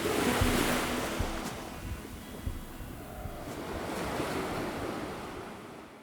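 Ocean surf breaks on a beach in the Scottish Highlands, a steady near wash of waves with gusting wind buffeting the microphone and no voices.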